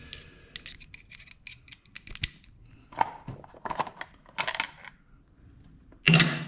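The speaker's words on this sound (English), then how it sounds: "I just keep stuff in a magnetic tray." Metal bolts removed from under a cover land in a magnetic tray with scattered sharp clinks and taps, a few at a time, close by, ending in a louder metallic clatter.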